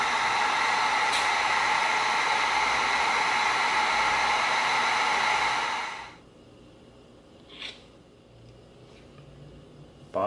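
Heat gun blowing hot air over EVA foam, a loud steady rushing hiss that cuts off sharply after about six seconds, leaving quiet room tone with a faint click.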